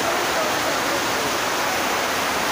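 Kapil Dhara waterfall near Narsingh Nath Temple in Bargarh roars as a steady, dense wash of falling water, loud and unbroken with no voices.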